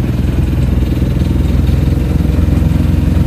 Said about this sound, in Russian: Двигатель, кстати, что-то нормально стал работать.